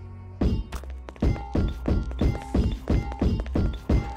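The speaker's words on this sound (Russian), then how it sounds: "Смотрите, какой звук у него прям ходьбы." Heavy animatronic footsteps in a Garry's Mod FNAF game land as deep, booming thuds at a steady walking pace, about two per second, loud and close with faint metallic clanks between them.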